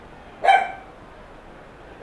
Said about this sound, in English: And my dog is going crazy because we've scored.